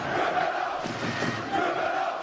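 A crowd of fans jeering and cursing, a dense continuous roar of many voices shouting together, loud and steady throughout the short span.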